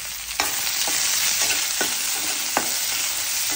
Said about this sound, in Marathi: तितून घालून घेवया कांदो। कांदो बरो ब्राऊन जायसर तळसून घेवया।